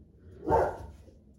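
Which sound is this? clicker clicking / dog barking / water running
dog barking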